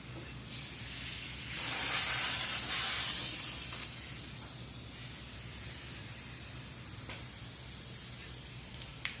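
Degreaser sprayed onto the engine and engine compartment of a 1966 Ford F100 shop truck, heard as a steady close hissing spray that swells and eases with a few brief bursts, with no talking.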